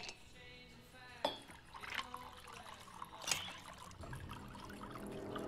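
Liquid trickles and drips in a film scene, faint and quiet, with sharp individual drops standing out over a soft running dribble.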